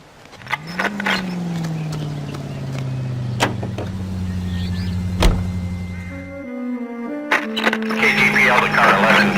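Car driven through the streets in the video game L.A. Noire, a steady engine drone that rises in pitch and holds under dialogue, with a brief drop near the end before traffic and engine noise return.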